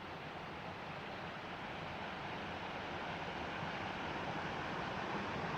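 Basin Creek, an unspoiled mountain waterway in North Carolina's Doughton Recreation Area, rushes in a steady, even hiss of flowing water, faint and continuous with no voices.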